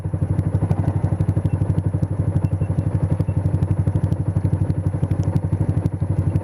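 A learner's motorbike engine strains at low speed, its loud, rapid, lumpy thumping pulse running steadily throughout with no voices.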